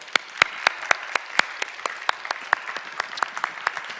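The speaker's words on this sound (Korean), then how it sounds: "우리 감사와 축복의 박수를 한번 드릴까요?" A church congregation claps together in a brief burst of applause during a Sunday worship service, the claps sharp and fairly even in rhythm, heard close.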